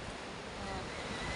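Big ocean waves wash against the shore with a steady rushing roar, mixed with wind noise and no clear breaks.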